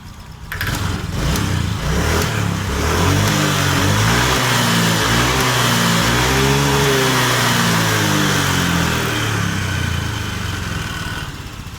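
A Honda Vario 125 scooter that is sluggish and low on power revs steadily and loudly up close, its engine droning continuously for several seconds.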